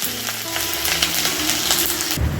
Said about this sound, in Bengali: এখন আমি ফোড়নগুলোকে একটু ভালো করে ভেজে নেব